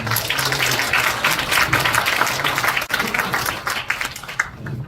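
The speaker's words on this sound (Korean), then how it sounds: "피터 벤딕스 선생님께서 다시 한번 힘찬 박수로 맞이해 주시기 바랍니다." An audience at a peace education forum gives a speaker hearty applause, a full burst of many hands clapping in a hall that thins out and tapers toward the end.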